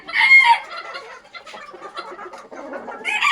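Backyard hens cluck and a rooster crows nearby, the calls loud and overlapping in an uneven stream.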